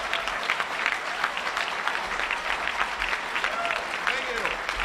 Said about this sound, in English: How about a warm round of applause for Herman Cain?